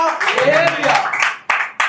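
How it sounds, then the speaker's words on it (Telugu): A church congregation claps loudly in a dense, sustained burst of hand claps, close and full, ending with a couple of sharp separate claps. "గట్టిగా చప్పట్లు కొట్టి దేవుని హల్లెలూయా"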